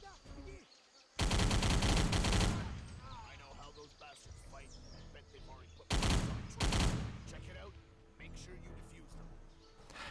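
Video game machine gun fire in two loud, dense bursts, the first lasting about a second and a half and the second shorter, with quieter game ambience between them.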